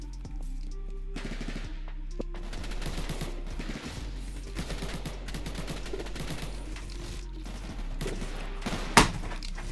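PPSh submachine gun in the video game Jailbird Remastered, rapid automatic bursts of fire in quick succession with short pauses between them and a sharp louder crack near the end.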